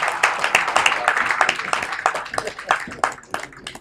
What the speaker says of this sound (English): please give Prince Kunle Oyewumi a proper round of applause